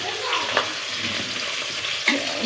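Malabar spinach (pui shak) sizzles steadily in a hot pan with a soft, continuous frying hiss, broken by a couple of faint stirring scrapes.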